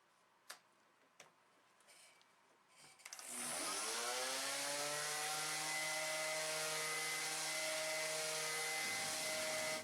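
A power sander spins up with fine grit discs on wooden quilting clappers after a few light taps. It settles into a loud, steady whine that holds for several seconds before cutting off.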